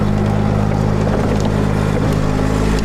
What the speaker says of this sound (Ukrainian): Отримали наразі такий потужний бойовий інженерний трактор